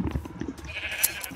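Sheep in a Minecraft-style survival video game bleat in short, close calls over a quiet background.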